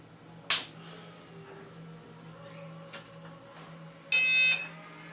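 A sharp snap-like click, a quiet hum, then a short electronic beep near the end from a 20-year-old computer motherboard starting up, close by and fairly loud.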